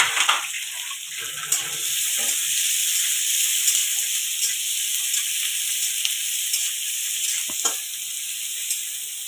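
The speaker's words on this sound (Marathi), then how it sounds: "कांदा थोडासा परतून घेतला" Finely chopped onion with curry leaves sautéing in a pan, a loud continuous hiss and sizzle close up with a few scrapes of stirring and no talking.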